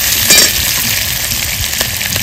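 Slit green chilies fry in hot oil in a pan with a loud, continuous hiss, close up, while a spatula stirs them in a few soft strokes.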